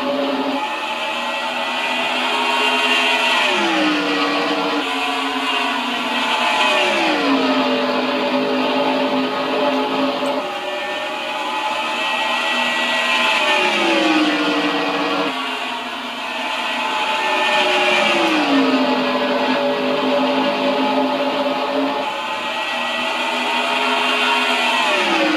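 Stock cars at Dover in NASCAR Racing 2003 drone steadily at high revs, the engine pitch sweeping downward in repeated waves as cars pass and shift, loud and continuous with no talk.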